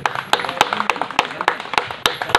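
Audience clapping at an Eluru community festival committee gathering, a run of sharp, uneven hand claps repeating through the moment with a murmur of voices underneath.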